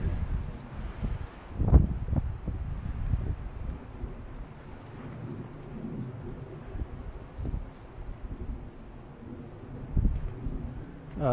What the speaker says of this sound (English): at least the wind is a little bit better in this little alcove